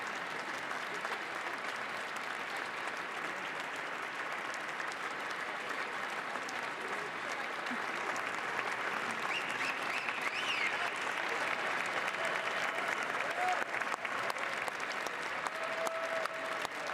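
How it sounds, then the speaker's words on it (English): Crowd applause at a presidential inauguration, a continuous, even roar of many hands clapping at a distance, sustained throughout with faint voices and tones underneath. "Unsmiling, he continues applauding."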